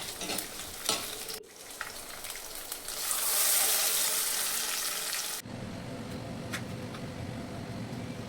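Tamarind curry with drumstick and mango bubbles and sizzles in a pan, rising to a loud frying hiss midway, then cutting to quieter simmering with a scrape of stirring.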